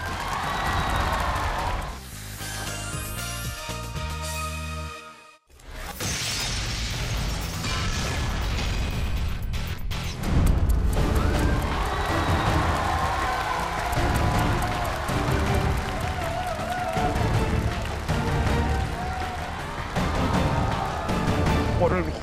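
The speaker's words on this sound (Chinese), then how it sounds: "掌声，有请" Sustained audience cheering and applause fill a televised masked singing competition stage, a dense continuous roar that runs loud for most of the stretch after a brief dip, with a host's voice heard over the start.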